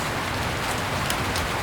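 Heavy rain pours steadily on a mountain campsite in Benguet, a dense, even hiss with no gaps and no voices.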